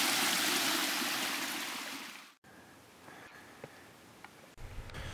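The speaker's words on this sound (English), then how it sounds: "I hear water and scramble 50 feet below the trail to where water first begins to cascade from the broken blocks" Water cascading from broken rock blocks beside a mountain trail in the Alpi Apuane, Italy: a loud, steady rushing stream that cuts off abruptly, followed by quieter outdoor ambience with small knocks and rustles.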